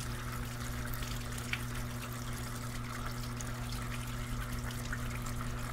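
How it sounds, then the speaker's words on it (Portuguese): A Brastemp Vantage 8.5 kg washing machine (BWI85A) feeding water through its soap dispenser: a steady, even trickling wash over a low machine hum, close and continuous with no talk. "Ela está jogando água aqui no dispenser de sabão."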